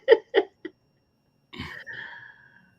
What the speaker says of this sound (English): Elbow cough, elbow cough.